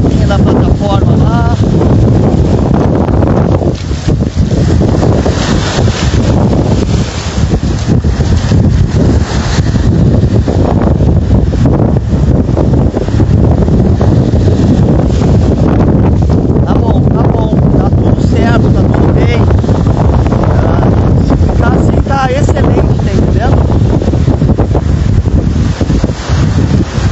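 Strong wind roars steadily across an open lagoon, buffeting the microphone in a continuous broadband rush for the whole stretch, with no voices over it.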